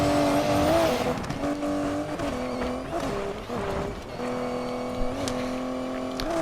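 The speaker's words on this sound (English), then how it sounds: "Jump and nitrous and turn and drift and turn and kind of drift, I guess." A race car in Need for Speed Payback drifts and fires nitrous, its engine loud and up close, rising and falling with gear shifts and revs, and tire squeal brushing through without any voices.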